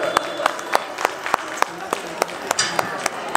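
Audience clapping after a song performance, sparse individual claps in a steady rhythm, moderately close, with a faint crowd murmur underneath.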